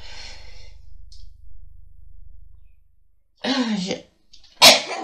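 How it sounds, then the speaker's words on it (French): A single sharp sneeze near the end, close and loud, after a quiet stretch with a brief intake of breath before it and some faint vocal sounds. "Excusez-moi, j'ai éternué."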